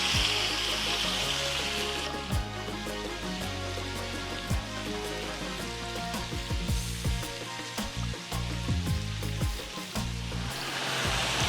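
Meat sears in oil in a frying pan with a loud, steady sizzle, broken by crackles and pops from spattering fat.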